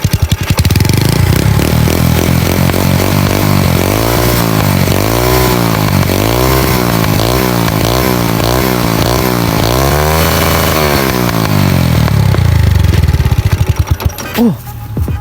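A loud Honda Wave 125S motorcycle engine with an aftermarket exhaust and a throaty, ear-piercing note revs repeatedly in rising and falling bursts, then settles back toward idle.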